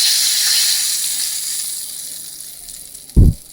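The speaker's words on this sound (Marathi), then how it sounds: "ही खमंग अशी चुरचुरीत फोडणी याला दिली आहे" Hot oil tempering sizzles steadily in a pan, a bright hiss that gradually fades, ending with a short low thump near the end.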